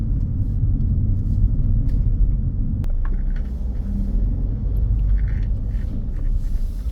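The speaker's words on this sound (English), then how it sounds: "As you can see, we are stuck in traffic." Steady low road rumble of car traffic, heard from inside a vehicle stuck in a queue on a Huddersfield driving test route, continuous and unbroken throughout.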